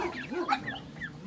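Chickens clucking nearby, with a few quick, soft calls over about a second in a farmyard that also holds ducks and other fowl.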